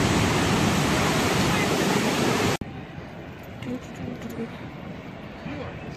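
Niagara Falls roars in a loud, steady rush of falling water through the first part, then cuts abruptly to a quieter outdoor background with faint distant sounds.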